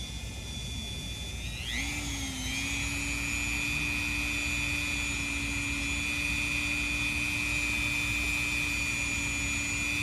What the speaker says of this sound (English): I do a lot of my sculpting with the Dremel, so I love these